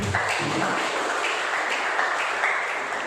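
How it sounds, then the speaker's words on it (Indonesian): A church congregation breaks into steady, close, fairly loud applause, a dense unbroken patter of many hands clapping with no voices over it. "Yuk tepuk tangan dulu."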